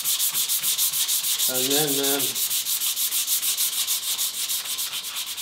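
Sandpaper rubbed back and forth over coated plywood in a steady, close rhythm of repeated strokes; a voice speaks briefly partway through.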